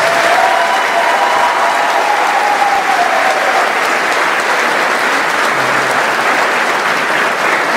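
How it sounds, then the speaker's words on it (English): Graduation audience at a Fulton G. Ray Bodley High School ceremony applauds a new graduate, a loud, dense, sustained wash of clapping from a large crowd that holds steady throughout. "So please have a round of applause."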